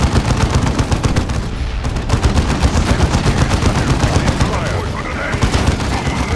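Rapid gunfire from a Dawn of War 2 video game battle, dense sustained bursts of automatic shots crackling loudly and continuously with brief pauses, no voices over it.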